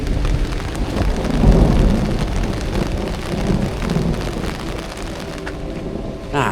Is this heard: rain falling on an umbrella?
yes